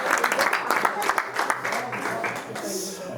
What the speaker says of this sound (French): On peut applaudir Marc.